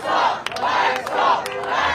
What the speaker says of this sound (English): Round of applause is coming.